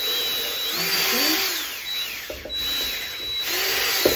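A power drill whines steadily at high pitch while cleaning a Lettuce Grow Farmstand near water, its motor rising and dipping in speed, with a few brief knocks partway through.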